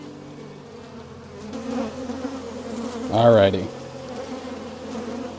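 Honeybees drone around an opened hive during an early-season inspection, a steady close buzz throughout, with a brief spoken word from a person partway through.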